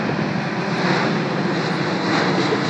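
Airbus A380 jet airliner making a slow flyby at the Farnborough air show in 2010, a steady loud broadband engine roar that holds throughout, with no voices.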